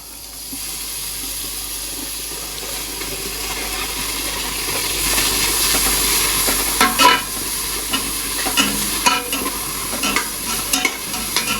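Onions and crushed spices sautéing in a pan, a loud steady hiss and sizzle that builds, then quick stirring scrapes toward the end, close and continuous without speech.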